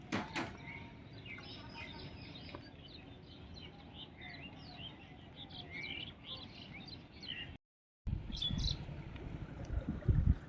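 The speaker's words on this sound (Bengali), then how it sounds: "খুব ভালো লাগে পাখির ডাকগুলো শুনতে।" Birds calling outdoors after rain near a river, with scattered chirps and tweets over a soft background hum, moderately distant, briefly cut by a moment of silence before louder rustling handling noise.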